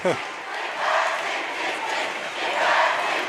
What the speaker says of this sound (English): Those Orem fans getting loud, trying to cheer on their D.